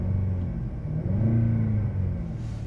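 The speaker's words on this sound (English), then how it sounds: "Okay, car revs nicely." A 2011 Jaguar XJ Portfolio with about 45,000 miles revving up and easing back down, a smooth deep engine rumble heard close, with no talking.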